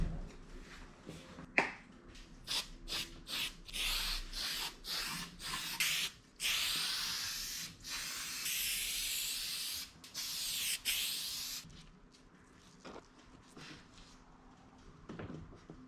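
Spray adhesive is applied to a fabric door panel for an '87 Honda Civic, a series of short, close hissing bursts in quick succession with brief pauses and some handling rustle between them.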